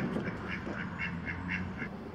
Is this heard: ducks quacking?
yes